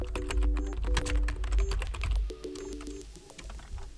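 Rapid, steady clicking of keys as someone types on a computer keyboard, close and clear over a low background hum, with no voices.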